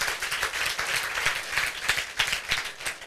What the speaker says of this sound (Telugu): చప్పట్లు కూడా దేవుని మహిమపరచాలి